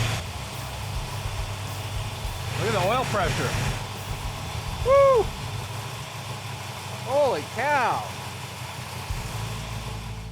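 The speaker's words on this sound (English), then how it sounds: "The engine runs absolutely fantastic." A rumbling 440 Six Pack big-block V8 car engine idles steadily at close range, with people talking and exclaiming over it.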